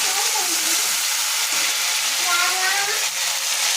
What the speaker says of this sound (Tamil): எண்ணெயில போட்டு நல்லா பொரிச்சு எடுக்கணும்.